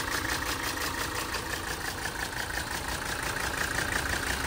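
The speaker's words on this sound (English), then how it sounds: "Engine bay is in very good shape and the motor sounds very healthy." A 1980 Mercedes 300SD turbo diesel idles steadily, a close, even rattling clatter with a constant rhythmic pulse throughout and no voices.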